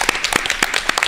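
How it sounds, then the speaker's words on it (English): A brief burst of applause from a school board meeting audience honoring an undefeated middle school football team, with a few quick claps rising and falling in just over a second. "Let's give them a round of applause."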